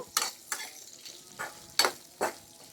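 Onions frying in a pan until light brown, a low sizzle broken by five or six stirring scrapes that arrive in even bursts.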